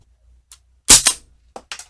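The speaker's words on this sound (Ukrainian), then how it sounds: "І починаємо знову 7 пострілів." A Sig Sauer MCX Gen 2 airgun fires 0.4 pellets during a chronograph test, giving one sharp loud crack followed by a few fainter clicks and taps of handling at close range.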